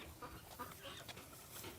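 Several backyard hens cluck softly as they hurry toward their keeper at feeding time, faint scattered calls in a quiet outdoor setting.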